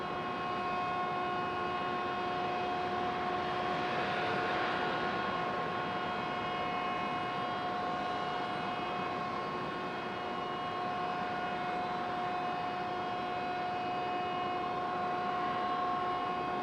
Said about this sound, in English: That American coming in from DFW.